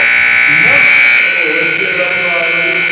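A loud, sustained end-of-game horn blares at a girls' high school basketball game in Kentucky, cutting off after about a second over crowd noise and an announcer's voice.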